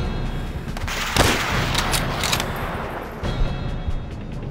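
Gunfire rattles through a Call of Duty: World at War battle, with loud bursts and sharp cracks over a constant rumble of game noise, and no speech.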